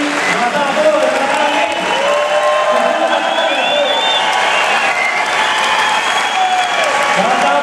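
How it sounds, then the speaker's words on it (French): A large crowd at a live tennis event in Québec applauds and cheers loudly and steadily, with shouts and voices mixed into the noise. "Maintenant, je vais vous demander de faire du bruit."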